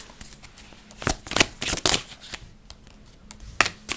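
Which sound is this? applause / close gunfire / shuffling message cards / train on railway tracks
shuffling message cards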